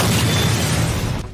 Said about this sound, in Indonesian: tempat itu pun meledak.